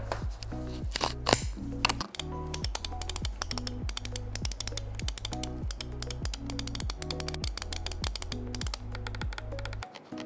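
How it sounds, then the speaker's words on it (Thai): Rapid, crisp clicks from a Razer Viper 8K gaming mouse with low-noise silent switches, sounding close and steady over about ten seconds, with no voices. "ส่วนเสียงของเมาส์เองเดี๋ยวเรามาฟังกั"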